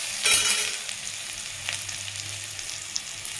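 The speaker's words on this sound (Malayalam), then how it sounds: "സബോളയാണ് വഴറ്റാൻ വേണ്ടി എടുക്കുന്നത്." Sliced onions sizzling in oil in a pan as they are stirred, a steady soft crackle with a brief louder burst near the start and occasional scrape of a spoon, close and alone with no talking.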